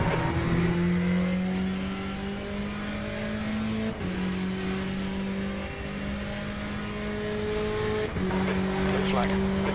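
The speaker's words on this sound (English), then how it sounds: "There's a faster class car approaching." A race car in Le Mans Ultimate holds a steady engine drone that climbs in pitch through each gear, with sudden drops at the shifts. A voice talks over it, and a faster class car closes in.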